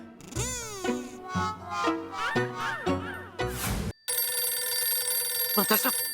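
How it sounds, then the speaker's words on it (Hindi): An electronic phone ringtone sounds after a stretch of lively talk, ringing steadily and loudly for a couple of seconds near the end. "दया का फोन"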